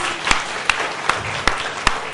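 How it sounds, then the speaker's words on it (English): Audience clapping for contestants at a competition, heard as five evenly spaced, sharp claps standing out over a low murmur of room noise. "A huge round of applause for them, please."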